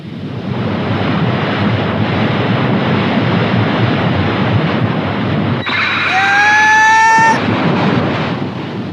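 Steady roar of surf and wind fills the whole stretch, a broad continuous wash of waves with a brief whistling tone rising near the end.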